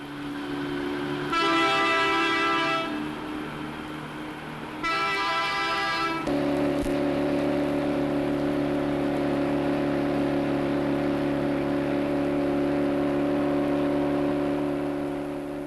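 British Railways Fell diesel locomotive 10100 on its first trial run, sounding two long horn blasts before settling into a steady, droning engine hum with strong low tones that carries on alone.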